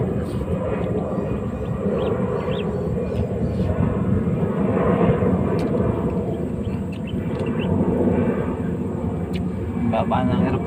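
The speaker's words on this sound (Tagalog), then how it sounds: "Baba ng aeroplano ito mga toy." Low-flying airplane passing overhead near the airport in Parañaque, a steady broad engine roar swelling slightly and holding throughout, close and loud, with faint bird chirps in the background.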